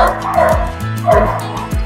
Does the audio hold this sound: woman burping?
no